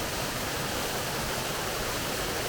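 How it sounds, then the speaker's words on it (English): Steady hiss and rush of a small mountain waterfall in the Rhodopes near Hrabrino, continuous broadband water noise at moderate level, unchanging throughout and with nobody speaking. "Nice little waterfall."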